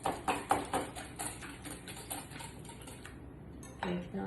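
Eggs and sugar being beaten for chocolate chip pancake batter, a whisk or utensil tapping rhythmically against a bowl in quick clinks, fading to quieter stirring before a few more knocks.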